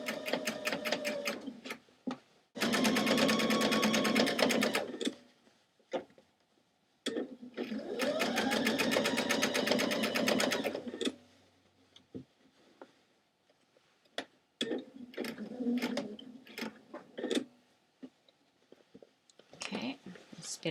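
A home sewing machine stitches a patch onto thrift store jeans in two long whirring runs of rapid needle ticks, with shorter bursts and a soft voice talking between them.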